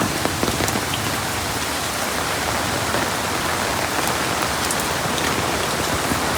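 Heavy rain pours down steadily on surfaces and pooling floodwater, a dense, loud hiss with scattered nearby drop splatters, continuous and unbroken with no voices.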